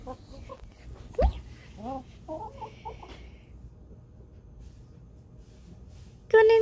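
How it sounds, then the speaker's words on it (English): Chickens cluck softly and intermittently nearby, with a few short calls over quiet background rustle and a sharp knock early on. "Chicken!"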